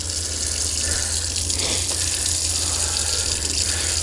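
An RV water pump runs with water rushing steadily from a tap, a constant loud wash over a low motor hum that holds for the whole stretch with no talking.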